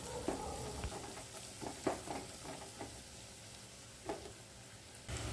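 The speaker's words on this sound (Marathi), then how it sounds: "कोथिंबीर टाकल्यार कोथिंबीर थोडीशी तेलात परतून घेऊची असा" Fresh coriander sautéing in hot oil with fried onions for a paneer masala gravy, a soft close sizzle broken by a few scraping stirs, with no one talking.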